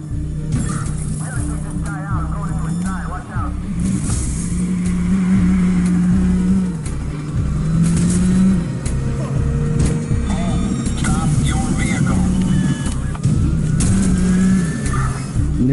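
A car engine revving and roaring in the video game Watch Dogs during online free roam, loud and continuous with rising and falling pitch, under frequent excited talk and scattered game effects.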